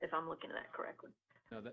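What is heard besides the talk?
No everyday noises stand out.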